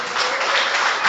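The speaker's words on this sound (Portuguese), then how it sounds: "Você pode dar um aplauso ao Senhor Jesus?" A church congregation at an evangelical service in Canelinha claps together in praise, a brief, continuous wash of fairly close applause.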